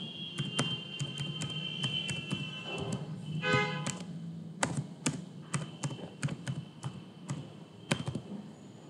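Username and password being typed on a computer keyboard while signing into the CareCam Pro app on a Windows PC: steady, close keystrokes in irregular bursts over a low background hum, with no talking.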